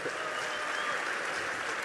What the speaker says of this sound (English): Mark and Elon, one more round of applause